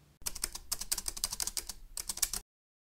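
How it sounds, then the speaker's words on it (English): Rapid keyboard typing, a dense run of close, crisp key clicks for about two seconds that stops abruptly into silence, with no voice present. "so get typing"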